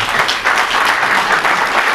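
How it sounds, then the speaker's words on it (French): An audience applauds loudly and steadily, a thick wash of clapping with no pauses across two seconds. "je voudrais bien qu'on applaudisse fortement pour ça"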